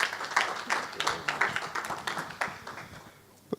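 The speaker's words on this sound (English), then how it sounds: "You may applaud." Audience clapping after a lecture on democracy and the economy in Africa, a modest scattered round of applause that thins out and fades toward the end.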